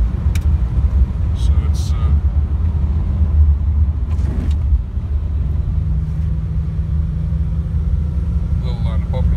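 A 1978 Dodge Diplomat driving on a country road at about 35 mph, a steady loud low rumble of engine and road noise with a brief voice over it.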